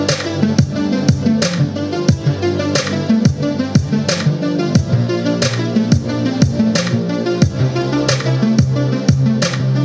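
Electronic track with a dense, continuous mix: a repeating synth melody rides over a shifting synth bass line, driven by steady punchy drum hits throughout.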